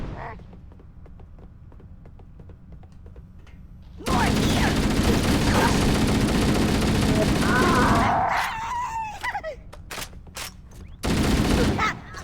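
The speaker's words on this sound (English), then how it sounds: "I guess I'll stick with the assault rifle." Assault rifle fire in the video game Halo: Combat Evolved, heard as a loud sustained automatic burst lasting several seconds, then a short follow-up burst amid in-game sounds and alien chatter, with someone talking over it.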